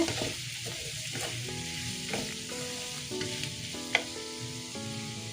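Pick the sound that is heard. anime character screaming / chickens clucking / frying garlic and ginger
frying garlic and ginger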